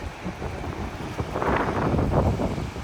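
Steady rushing of a river flowing in rainy hill country near Palampur, a broad wash of water noise heard from the bank, gradually swelling louder, with wind buffeting the microphone and no voices.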